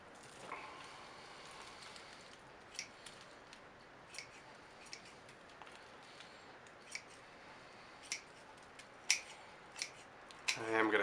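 Pruning shears snip a juniper bonsai in a series of sharp, close clicks spaced a second or two apart over a quiet background, ending in a louder rustle of foliage.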